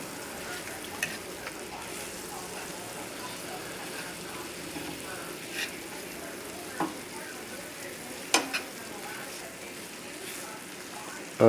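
A rack of veal sizzles steadily in a hot pan as it is turned over, with a constant close frying hiss broken by a few soft clicks and bumps of handling.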